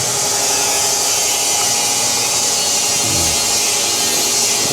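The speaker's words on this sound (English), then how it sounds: "And then I am going to drill for hardware" A power drill bores hardware holes in fabricated fuel filler panels, giving a loud, steady whirring grind that runs unbroken for several seconds.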